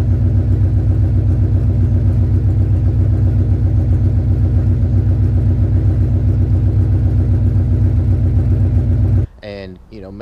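A Ford Coyote V8 swapped into a car idles smoothly without cam lope: a steady, even, close-up rumble that holds for about nine seconds before a voice briefly cuts in at the end.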